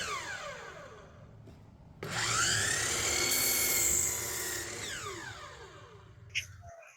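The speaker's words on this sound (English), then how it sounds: "I'll start by using a freshly installed miter saw, getting the vertical boards cut" A freshly installed miter saw cutting vertical wood boards: the motor spins up with a rising whine, bites through the board in a loud sustained cut for about three seconds, then winds down, close by.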